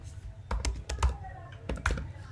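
Keyboard keys clatter in a few quick bursts of clicks while Flutter code is entered on a computer, with a voice speaking faintly underneath.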